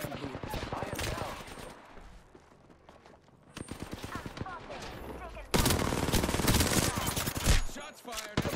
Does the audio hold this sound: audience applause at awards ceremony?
no